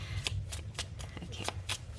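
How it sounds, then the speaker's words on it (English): A deck of tarot cards is shuffled in quick, rhythmic riffles, crisp flicks and snaps about every quarter second, close but soft, with low background hum. "let me shuffle this one because I'm using some, I don't want to just take from the top without shuffling"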